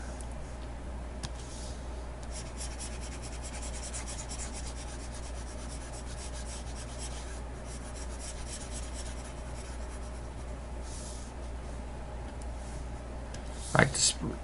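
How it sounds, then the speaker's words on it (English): Steady dry rubbing of an eraser against a classroom board, continuous and fairly close, with a brief louder scrape near the end. "let me erase this real quick"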